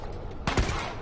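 A single gunshot in The Last of Us: Left Behind lands as a headshot, a short, sharp report with a brief rumbling tail.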